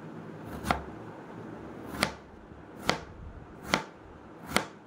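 Knife chopping peeled ash gourd finely on a board, five sharp, distinct strikes spaced roughly a second apart, close and clear with no talking.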